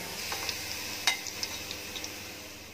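Browned onions frying in oil in a pan as they are scooped out into a bowl, with a soft steady sizzle broken by a few light clinks of a utensil against the pan.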